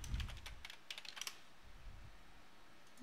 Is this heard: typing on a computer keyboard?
yes